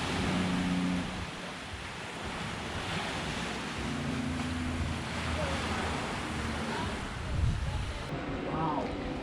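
Surf washing onto a beach at Ocho Rios, Jamaica, a steady close roar of waves with wind buffeting the microphone throughout and a brief louder swell near the end.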